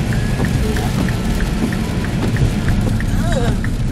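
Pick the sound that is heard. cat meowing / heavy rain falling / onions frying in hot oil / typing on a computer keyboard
heavy rain falling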